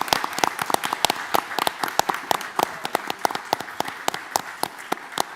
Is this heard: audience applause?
yes